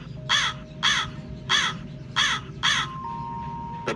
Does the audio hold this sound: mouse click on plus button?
no